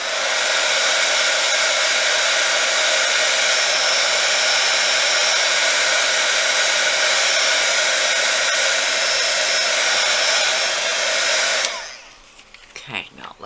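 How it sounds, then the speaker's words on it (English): A heat gun blows hot air onto polymer clay with a loud, steady rushing roar close by. It cuts off abruptly near the end, leaving a few faint handling sounds. "don't get your heat gun too close"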